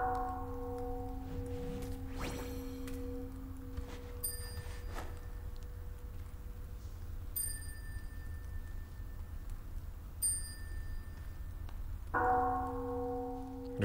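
A small bell rung repeatedly during a busy expo livestream, bright ringing clusters recurring every few seconds over steady background hum, with sustained tonal game sounds in between.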